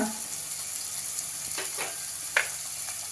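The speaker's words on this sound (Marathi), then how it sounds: "गाजराचा किस सगळं थोडंसं परतून घेऊया" Quiet sizzle of onion, peas, beans and grated carrot sautéing in a pan for ragi soup, a steady hiss broken by a few short stirring scrapes.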